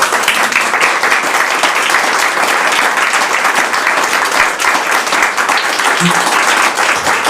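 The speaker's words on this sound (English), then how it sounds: "Let's give her a big round of applause" An audience applauds a keynote speaker at a writers' conference, with loud, steady, continuous clapping throughout and a few faint voices mixed in.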